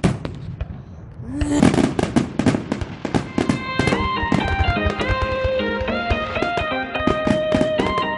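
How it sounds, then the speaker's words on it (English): Fireworks burst at night in a dense, rapid string of loud cracks and pops, the bangs overlapping and ringing on without pause and nearby, with no talk over them. "10 o'clock at night. And there's fireworks if you got here."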